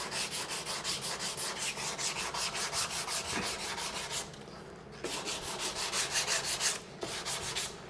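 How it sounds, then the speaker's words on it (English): Steady rhythmic rasping of a block sanding wood, quick back-and-forth strokes close up, with a brief pause partway through. "get one of these sanding blocks."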